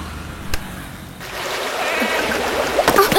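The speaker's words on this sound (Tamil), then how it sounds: "ஓ காட், என் மொபைல் தண்ணில போயிடுச்சு" A mobile phone drops into water with a sudden splash, followed by trickling, streaming water sounds close by, with a voice briefly audible near the end.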